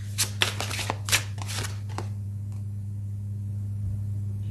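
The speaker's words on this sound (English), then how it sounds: "These cards are new, so they're still a bit difficult to shuffle here" A new deck of tarot cards being shuffled by hand, a quick run of crisp riffling snaps and flutters over about two seconds, then quiet with a low steady room hum.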